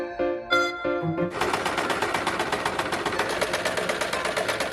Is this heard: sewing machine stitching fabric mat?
yes